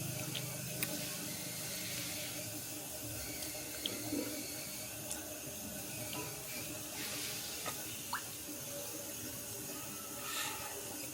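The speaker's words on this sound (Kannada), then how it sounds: "ಒರಟೆಗೆ ನೀರು ಹಾಕ್ಕೊಂಬಿಟ್ಟು ಕ್ಲೀನಾಗಿ ಹಿಂಡ್ಕೋಬೇಕು ಅದನ್ನ" Water pours and splashes over mango stones as the pulp is squeezed out by hand, a steady running-water wash with small drips, heard alone throughout.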